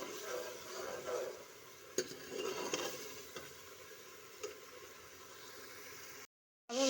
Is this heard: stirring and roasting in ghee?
yes